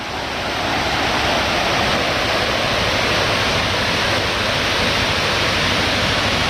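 Clear river water rushing steadily past a riverbank lined with durian trees beside a remote forest village, a dense, continuous broadband roar that stays close and even throughout with no voices.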